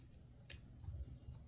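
Scissors snip through knitting yarn with one quick, crisp cut, close but faint against a quiet background.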